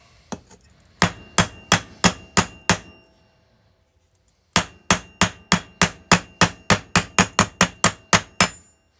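A hammer striking a metal workpiece, two bursts of sharp, ringing blows in even rhythm: about seven strikes, a pause, then a longer run of around fifteen, close and loud with no talking.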